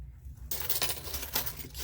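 Metal key-shaped craft charms for cards and pendants jingle and clink together as they are handled, a close run of bright, scattered metallic taps and rattles that starts abruptly and continues steadily.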